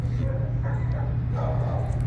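Many dogs in an animal shelter bark, yip and whimper together under a steady low hum, a dense, ongoing din heard from within the kennels.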